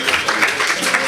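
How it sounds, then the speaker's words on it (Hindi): An audience applauds to welcome performers at a ghazal gathering at the Ghalib Institute in New Delhi, a steady wash of many hands clapping together, loud and close. "एक बार मैं चाहूँगी कि ज़ोरदार तालियों से उनका इस्तकबाल किया जाए"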